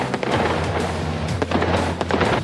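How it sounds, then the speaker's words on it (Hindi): Fireworks at a goods transport alliance camp crackle and pop in quick irregular bursts over a low steady boom, loud and close, with no talking. "मुज़ाकरात की कामयाबी का ऐलान गुड्स ट्रांसपोर्ट अलायंस कैंप में आतिशबाजी से किया गया।"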